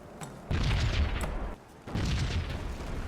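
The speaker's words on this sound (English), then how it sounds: "can we just admire the damage that these cannons do?" Cannons in a Medieval Total War battle fire in two heavy, booming blasts about a second and a half apart, each with a rumbling tail, loud and close with no talk.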